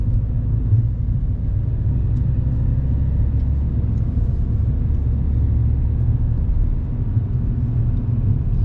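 A car engine drones low and steady as a learner driver lets the clutch out and pulls away, then speeds up, a constant close rumble from inside the car with no talking.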